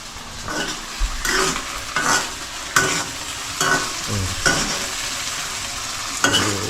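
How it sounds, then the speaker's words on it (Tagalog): Food fries in a pan on the stove while being stirred, with a constant sizzle broken by about six regular scraping strokes of a spoon against the pan. "Yan, haluin mo."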